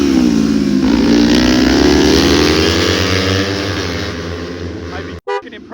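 Kawasaki motorcycles are ridden hard in a race, a loud, close engine howl climbing and then easing off before cutting out abruptly and briefly returning.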